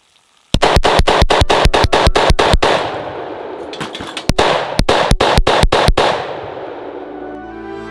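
A 10mm pistol fired into water unloads in a rapid string of about eleven loud, sharp shots, then after a short pause another quick volley of around six, each crack ringing with a long echoing tail.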